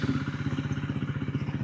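A KTM Duke 390 single-cylinder engine fitted with an aftermarket SC exhaust idles with a rapid, even, throbbing pulse, close and moderately loud, with no one speaking.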